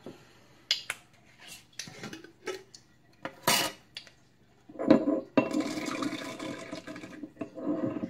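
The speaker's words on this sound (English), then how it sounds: "So I'm going to try to grind them up now." Hard dried rose hips crunch and clatter in a bowl of jojoba oil, with scattered clicks and scrapes, then a stretch of steady grinding and rattling close by.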